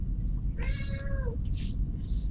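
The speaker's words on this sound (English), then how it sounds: "Don't mind the cat." A house cat lets out a single clear, drawn-out meow near the microphone, followed by a couple of soft rustling bursts over a low steady background hum.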